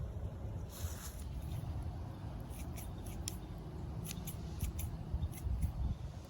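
Shears trimming a small boxwood shrub into a ball, a series of short snips scattered through steady outdoor wind rumble.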